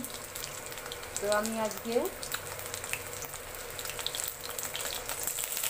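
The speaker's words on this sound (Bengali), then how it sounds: "সিলভার কাপ মাছটা আমি নুন হলুদ মাখিয়ে ভাজতে তুলে দিয়েছিলাম" Silver carp fish coated in salt and turmeric frying in oil, a steady soft sizzle running through the whole stretch while someone speaks briefly near the start.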